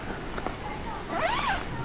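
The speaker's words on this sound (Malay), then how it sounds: "So, kita buka zip dia sampai atas, kiri kanan." Zipper pulled open along the door of a Thule Tepui Kukenam 3 roof top tent, a rising fabric zip rasp near the end of the clip, fairly close and clear, over low outdoor background.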